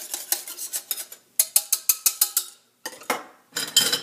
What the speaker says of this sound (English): So get out your whisk.